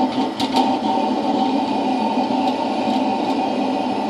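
A steady, droning roar from a waste oil heater burner built from an electric water heater runs without pause, with a constant hum and a faint rattle, like a small jet engine.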